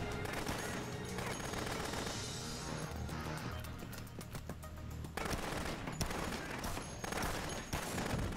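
Rapid bursts of automatic gunfire in the Dead Rising video game, dense repeated shots with crashes layered over steady game sound, continuing loudly throughout with a brief thinner stretch midway.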